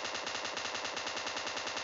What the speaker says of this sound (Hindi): गोलियां चला रहे हैं